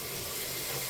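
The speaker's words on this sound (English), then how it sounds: "Let me get cold water" Cold water runs from a kitchen tap into a measuring cup, a steady close hissing splash of flowing water filling the whole moment without talk.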